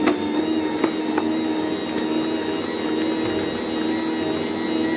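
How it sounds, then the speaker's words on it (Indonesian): An electric stand mixer at raised speed kneads sweet whipped-cream bread dough with salt just added, giving a steady, continuous motor whine with a faint hum and occasional light knocks throughout. "Nah, ini di mixer sekitar 15 menit ya, sampai dia kalis elastis."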